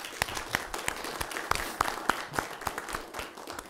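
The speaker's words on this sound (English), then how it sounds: "Let's give her a round of applause, please" Sparse, quiet applause at a board meeting, a handful of distinct individual claps landing in an uneven rhythm over a thin background of other hands, fairly distant.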